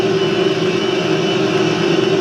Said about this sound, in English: The AB destroyer is a fighter jet, although the machine guns don't really do anything.